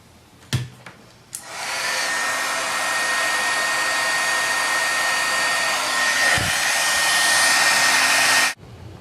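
A craft heat tool whirs on with a steady, close blowing hiss for about seven seconds while heating a stamped card. It then cuts off, with a couple of faint knocks before it starts.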